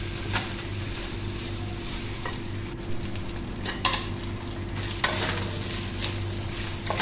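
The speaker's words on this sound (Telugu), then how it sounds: "ఇలా పచ్చివాసన పోయేంత వరకు బాగా వేపుకుంటే కర్రీ టేస్ట్ బాగా వస్తుంది" Chicken curry masala with ginger frying on medium flame while being stirred, a steady close sizzle with spoon scrapes and occasional clinks against the pan over a low continuous hum, no talk.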